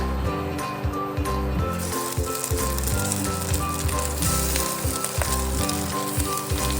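Pork for teriyaki meatballs sizzles and spits in a hot pan, a loud close crackle with rhythmic pulses of spatter throughout.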